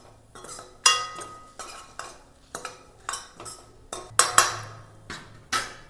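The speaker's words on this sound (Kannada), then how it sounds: "ಇದನ್ನು ಒಂದು ಸಲ ಕೂಡಿಸ್ಕೊಂಬಿಡಿ" A spoon stirs ground cumin and pepper into a tempering for tamarind rasam, with repeated scraping clinks against a metal pan in an irregular rhythm, close and distinct over a faint background.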